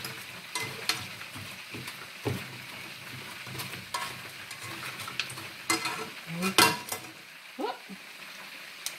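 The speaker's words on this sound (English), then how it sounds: "You're going to take you some tongs or some silverware." Buffalo wings are stirred and tossed in hot sauce with tongs, giving close, wet squelching and sloshing with irregular metallic clicks and scrapes against the bowl over a soft background hiss.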